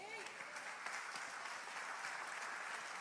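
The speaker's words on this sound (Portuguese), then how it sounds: "Um aplauso ao Senhor." Sustained applause fills a church congregation during a sermon, a steady wash of clapping from a crowd with a faint voice briefly audible at the start.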